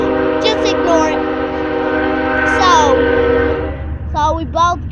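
A train horn sounds as a train passes nearby, with sustained horn tones and rumble running throughout, the horn blasting loud around the middle while voices talk intermittently over it.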